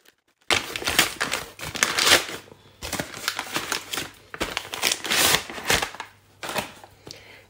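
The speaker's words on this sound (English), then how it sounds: "Let's unwrap it." Plastic wrapping crinkles and tears off the Watercolor with Me in the Forest book, in close, loud bursts of rustling with short pauses, no talking over it.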